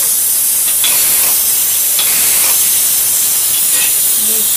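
Ghee heats in a pan on a stove, giving a loud, steady, close sizzling hiss that runs without a break, with no talking.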